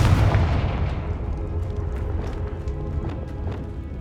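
A Confringo blasting-curse explosion in Hogwarts Legacy lands as a heavy, close boom that rolls and fades over a few seconds, with faint crackling debris in the tail.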